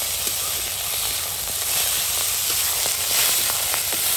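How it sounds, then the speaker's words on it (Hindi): Cumin, chilli, garlic and fenugreek leaves tempering in hot oil for a pumpkin curry give a steady, close sizzling hiss that holds throughout with faint crackles. "तड़का तड़क गया है तो इसको बस 1 मिनट भून लेंगे"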